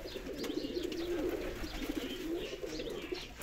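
Pigeons coo steadily in a loft holding several pairs, including a green-patterned male and female, with low, throaty, rolling calls overlapping continuously at close range.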